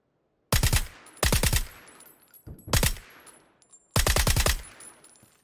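Gunfire in the battle royale game PUBG comes as four loud, close bursts of rapid automatic shots, separated by short gaps and decaying echoes.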